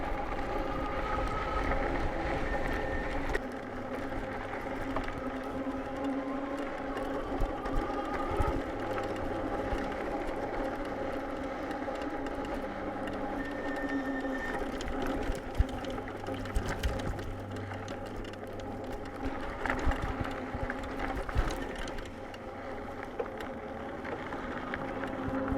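A dual-suspension electric bike rides over dirt, its motor giving a steady whine beneath continuous wind rush and rolling rumble from the tires, close and constant throughout.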